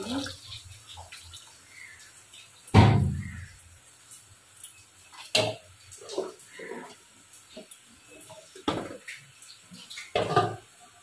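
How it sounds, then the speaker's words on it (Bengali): A small amount of water is poured into a pot of ghugni, the pea curry, on the stove, heard as a few short splashes and clatters spaced apart, fairly quiet, with faint speech-like sounds between them. "অল্প জল দিয়ে দেবো আমি।"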